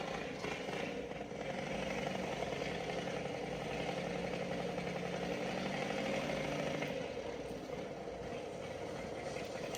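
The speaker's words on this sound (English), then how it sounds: "It's a revving engine of a motorcycle." A motorcycle engine running close by at a steady, throbbing pace, holding a fairly even pitch rather than climbing in sharp revs.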